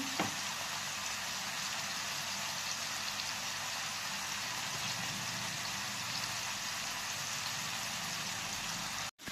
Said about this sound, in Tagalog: At nagpiprito pa po tayo.